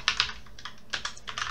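Typing on a computer keyboard: a few quick clusters of close, light key clicks in short bursts, with pauses between and no voices.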